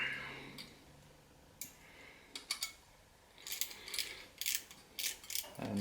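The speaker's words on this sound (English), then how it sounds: "clamp goes on." Clamp being tightened on a pie-cut intercooler pipe for an Audi S4, a quiet series of small ratcheting clicks and ticks that come in short irregular clusters, close by.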